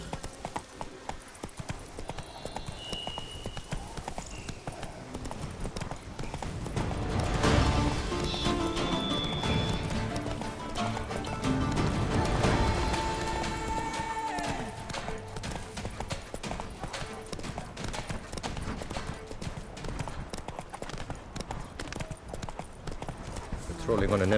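Hooves gallop in The Witcher 3 as the horse runs in a quick, even rhythm close by, with faint bird calls and a few neighs mixed in. Game voices speak over it at times.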